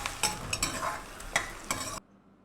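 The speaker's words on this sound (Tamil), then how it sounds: "இது எல்லாத்தையுமே எண்ணெயில் நல்லா வதக்கணும்." Sliced onion sautéing in hot oil in a pan for a Tamil bitter gourd thokku, a steady close sizzle with several scraping stirs of a spoon, ending abruptly in near silence.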